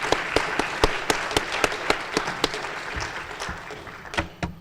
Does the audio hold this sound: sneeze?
no